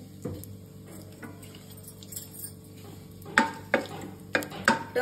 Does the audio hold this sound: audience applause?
no